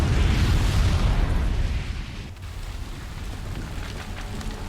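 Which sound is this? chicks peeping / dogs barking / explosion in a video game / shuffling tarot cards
explosion in a video game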